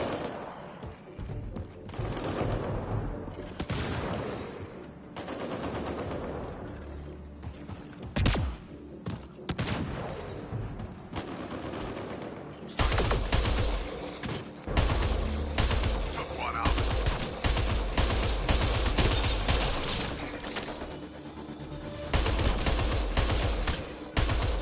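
Enemy gunfire in a Mass Effect Andromeda firefight with outlaws: dense, sustained bursts of shots and thuds that run throughout, growing louder and heavier about halfway through.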